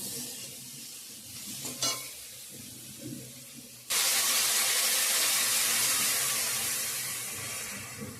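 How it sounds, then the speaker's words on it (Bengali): Curry sautéing with ground spices in a pan: soft stirring and scraping at first, then a sudden loud, hissing sizzle that bursts in and stays strong, slowly easing toward the end, with no talking. "সব মশলার সঙ্গে ভালো করে কষানো হয়ে গেছে গুঁড়ো মশলা অ্যাড করে দিয়ে দিচ্ছি"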